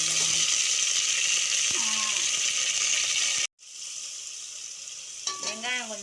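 Sliced onions frying in hot oil with green chili and mint for mutton biryani, a steady loud sizzle with clinks and scraping of a stirring spoon, cutting off briefly before resuming softer.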